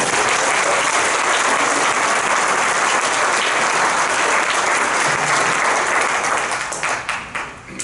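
Sustained, dense applause from a concert audience at a chorus performance fills the room loudly and evenly, then thins and tapers off toward the end.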